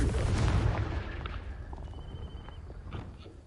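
Confringo fire spell in Hogwarts Legacy: a loud, close explosive boom that tails off into rumbling debris and fading crackle, with a faint whistling tone in the decay and no talk.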